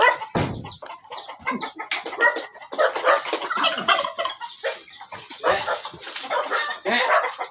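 Turkeys gobble in bursts among chickens, including Rhode Island Reds, on a rural Philippine farm, loud and close, the gobbling and clucking overlapping densely throughout with no pause.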